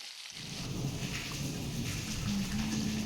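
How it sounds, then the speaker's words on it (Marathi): Heavy rain pours down outdoors in a steady dense hiss after a brief quiet start, with a low rumble of thunder underneath and no speech. "नाही कोण पाऊस बाहेरच चालू होतो. आहे पाऊस."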